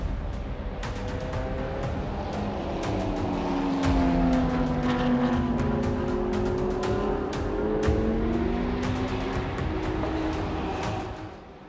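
Race cars roar past on the track at the Spa-Francorchamps 12 hour endurance race, several engines overlapping with rising and falling pitch as they pass, loud and continuous throughout.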